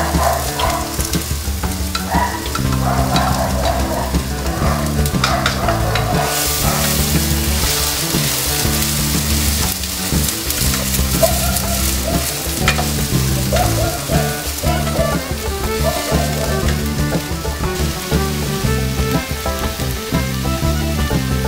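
Chopped onion frying in hot lard for a sausage ragu, a dense steady sizzle with clattering stirs and scrapes of a utensil against the pan throughout, close and loud.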